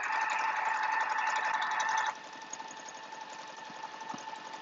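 A sewing machine doing free motion quilting hums steadily with a fast mechanical whir, louder for the first two seconds, then dropping to a quieter running drone.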